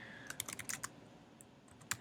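Header text is typed on a computer keyboard: a quick burst of crisp keystrokes, then a pause and a couple of isolated clicks, faint and close with no talk.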